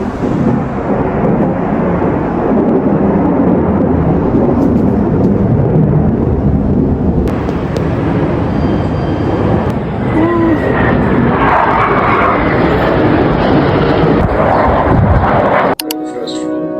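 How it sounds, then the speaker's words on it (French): A fighter jet passing over a Seoul National University campus, a loud continuous roar that fills the whole stretch and cuts off abruptly near the end. "j'entends un gros bruit, mais quand je dis un gros bruit c'est genre un bruit d'avion de chasse"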